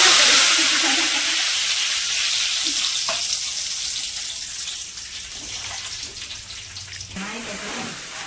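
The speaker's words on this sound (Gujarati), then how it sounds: "એટલે આપણે લીમડા હવે તળવાનો છે" Curry leaves hit hot oil for a savory chevda snack mix and sizzle loudly at first, settling into a steady crackling fry close by, with a few clinks of a spoon.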